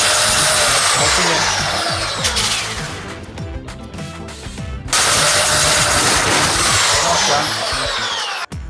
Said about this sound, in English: So the sander keeps bouncing off the helmet